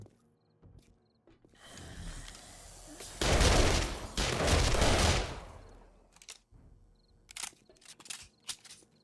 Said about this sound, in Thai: มายืนใส่กระสุนต่อหน้ามันทีนี้ รีโหลดกระสุน